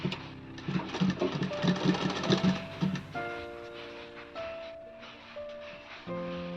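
A domestic sewing machine runs a hem on a kaftan nightie, a steady rapid stitching clatter in short bursts for the first few seconds, then quieter, with a few tonal hums afterward.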